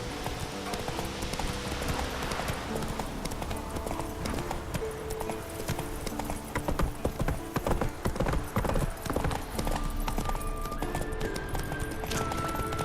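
Hooves of the horse Roach gallop in a rapid clip-clop rhythm through The Witcher 3 video game, steady and close for the whole stretch, with game music and ambience running underneath and a short whinny.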